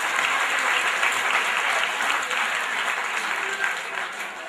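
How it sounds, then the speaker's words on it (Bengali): An audience applauds at a club's 17th anniversary cultural program, with dense, steady clapping from a large crowd that is loud and continuous throughout and fades slightly toward the end. "আমরা স্যারকে জোরে আমরা করতালি দিয়ে অভিনন্দন জানাই।"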